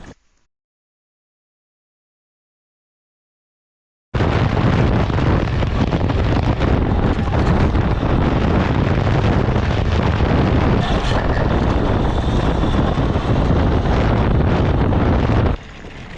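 A scooter rides along a typical San Diego residential road toward speed bumps, its suspension fitted with a 155 mm shock absorber; loud, steady broadband rumble and wind buffeting run continuously after about four seconds of silence.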